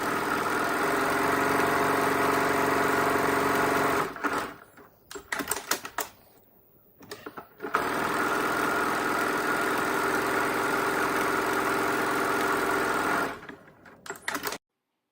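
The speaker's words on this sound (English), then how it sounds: "when you pop your presser foot down, the edge is lined up on the drawn line, and sew down both sides" Sewing machine stitching the sides of a pinwheel quilt block, a fast steady mechanical whir that runs about four seconds, stops with a few clicks and handling noises, then runs again for several seconds before halting.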